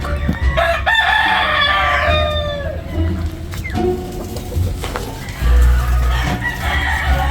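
A rooster crows loudly and close by while hens cluck around it in a breeding flock, with a voice speaking intermittently beneath the birds.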